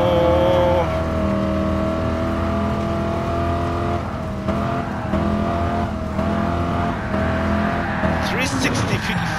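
Engine of a race car in the Gran Turismo Sport racing game, a steady loud drone with shifting revs and a brief rise near the end, heard continuously under talking.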